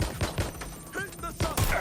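Bursts of video game gunfire from Watch Dogs Legion crack out in several quick clusters, near and sharp, mixed with game effects and short voice lines.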